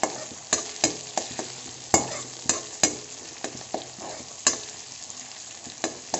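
Onion frying in a pan for desi-style macaroni: a close, steady sizzle punctuated by regular sharp taps and scrapes of a spoon stirring, about two per second, with no speech.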